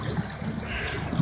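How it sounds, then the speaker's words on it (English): A mountain stream in Iceland, near Sigöldugljúfur Canyon, trickles and splashes steadily over rocks, a close, continuous watery wash heard alone. "if you see a stream like that in Iceland"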